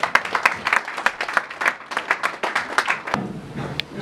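Congregation clapping during a prophetic New Year's Eve night service at a church in Roubaix, a loud, close burst of many hands clapping in a quick, uneven rhythm that thins out toward the end.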